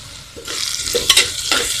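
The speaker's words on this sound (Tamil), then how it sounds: "நல்லா வதக்கி விடுங்க." Onions with green chillies and curry leaves sizzle in hot oil as they are stirred in the pan, with scraping strokes and bursts of crackling frying up close.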